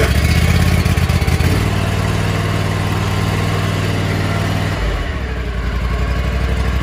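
A Scag Tiger Cat 2 mower engine idles cold, a loud, steady, close-up mechanical chug that drops slightly in pitch near the end.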